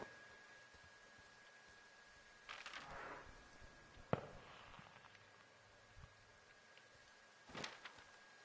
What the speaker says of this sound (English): Hear fireworks.